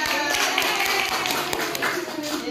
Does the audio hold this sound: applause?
yes